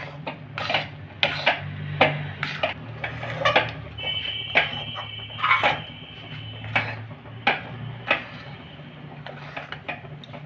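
A spatula scrapes and knocks around a kadai while stirring a rice sandesh mixture cooked with ghee, repeated rhythmic scraping strokes roughly every second over a low steady hum.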